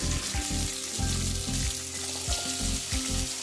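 Small onions sauté on a low flame for a jilebi fish gravy, giving a steady close sizzle broken by rhythmic stirring strokes against the pan.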